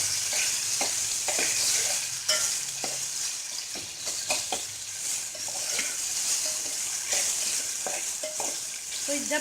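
Tomatoes fry in hot oil for dal with curry leaves, giving a steady close sizzle and crackle broken by spoon scrapes and clinks against the pan.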